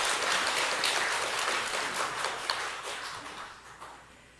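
Congregation applause during a Sunday morning church service, a dense, even wash of clapping from many hands that slowly fades toward the end.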